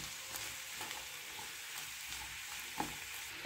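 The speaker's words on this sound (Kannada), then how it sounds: "ಇವಾಗ ಒಂದು ಚೆನ್ನಾಗಿ ಮಿಕ್ಸ್ ಮಾಡೋಣ." Sweet wedding-style tondekayi (ivy gourd) palya is stirred in a pan over a soft, constant sizzle, with a few distinct scraping clicks of the spoon, the loudest near the end; no one speaks.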